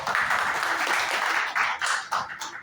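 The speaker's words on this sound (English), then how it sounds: "Please have big round of applause." Meeting audience applauding in a room, a moderate burst of clapping with a few louder swells near the end and faint voices mixed in.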